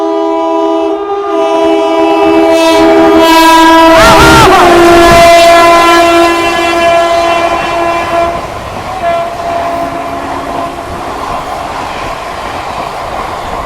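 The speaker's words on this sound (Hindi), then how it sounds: "भाई साहब सामने से आ रही है वडोदरा धानू रोड इंटरसिटी। भाई साहब हॉकिंग।" A Vadodara–Dahanu Road Intercity train approaches on an Indian railway line and sounds a long, loud horn with steady harmonic tones, fading as the wagons rumble and clatter past nearby.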